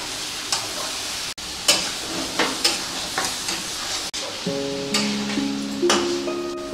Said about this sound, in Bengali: এইটা এখন আমি 30 মিনিট ধরে কষতে থাকবো।